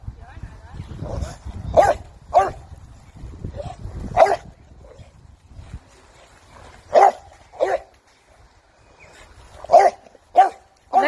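A puppy lets out a series of sharp, high yips and barks in short clusters, with softer whimpering and rustling between them, close by and fairly loud, without talk.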